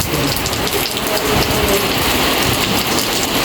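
Heavy rain pours down steadily and loudly at close range around a house being plastered, a dense unbroken roar with no talking.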